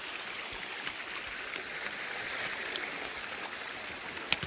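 Water runs steadily inside an old metal mine in the woods, a soft continuous broadband rush like a stream or trickle, fairly quiet and unbroken, with a couple of small splashy clicks near the end.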